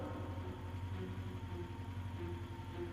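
A tractor engine runs steadily, a low rumbling drone at constant pace, faint and unbroken, with no voices.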